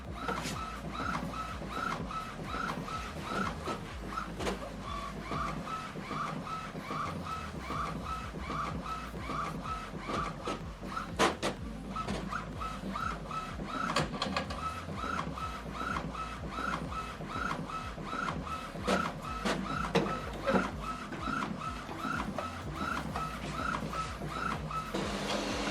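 An Epson WF-3820DWF all-in-one printer runs an alignment pattern print, giving a steady mechanical whir with repeated rhythmic clicks and shuttling of the print head, continuous and close throughout with no voices.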